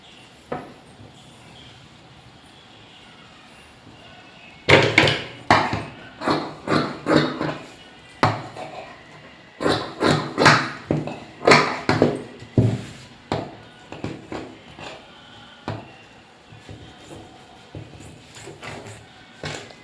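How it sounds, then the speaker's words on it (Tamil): Scissors cut through blouse patti cloth in quick bursts of crisp snips, starting after a quiet opening and continuing in close, rhythmic clusters before tapering off. "அதுக்காக பட்டி கிளாத்தையும் இன்னொன்று நான் கட் பண்ணி எடுத்துக்கிறேன்"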